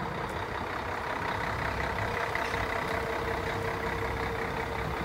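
A bus engine idles in a steady, dense low rumble with a constant drone that holds unbroken for several seconds, close by and with no talk over it.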